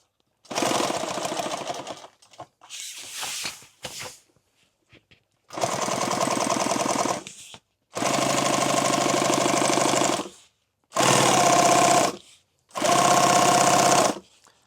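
A sewing machine stitches a hem on a padded helmet and night-vision bag, running in five distinct bursts of steady mechanical whirring, each a second or more long, separated by short pauses and clicks.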